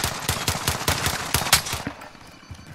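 Rapid automatic gunfire in a first-person shooter video game: a fast, steady burst of loud, sharp shots close up that stops abruptly, followed by quieter ambient game noise.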